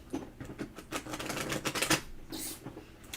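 Tarot cards are shuffled on a table, a rapid, rattling patter of card edges and taps for several seconds, fairly close, with no talking.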